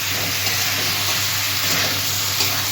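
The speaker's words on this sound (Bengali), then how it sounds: "চিংড়ি মাছ ভাজা দিয়েও আমি আলু পটলটা ভালো করে কষিয়ে নেব।" Potato and pointed gourd sizzling in hot oil and spices with fried prawns, a steady close frying hiss throughout with no talking.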